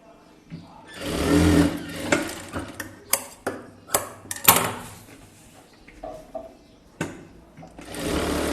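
A sewing machine stitches a blouse neck in short stop-and-start bursts of rapid needle ticking, each lasting under a second, repeated over eight seconds, close and moderately loud.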